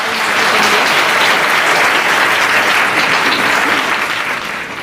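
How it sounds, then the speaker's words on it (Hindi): Loud, dense studio-audience applause at the start of a Hindi quiz show, a continuous roar of many clapping hands that holds steady and then eases slightly at the end. "जोरदार तालियां हो जाए।"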